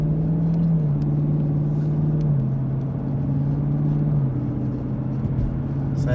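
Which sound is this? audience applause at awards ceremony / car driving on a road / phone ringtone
car driving on a road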